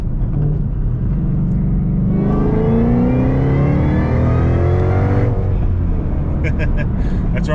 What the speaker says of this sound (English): you can actually hear the blower whine now